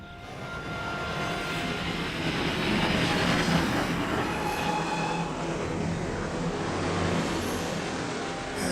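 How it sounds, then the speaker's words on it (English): A train rolls steadily along its tracks with a continuous, loud rumble and faint wheel noise, the din holding level throughout with no voices heard. "Have the conductor stop the train just ahead."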